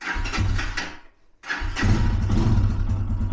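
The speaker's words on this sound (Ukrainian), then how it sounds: "Бачите, він заводиться, але холостого тримати не хоче." A cold motorcycle engine cranks and catches, sputters and dies after about a second, then restarts and runs rough, unable to hold a steady idle until warmed up.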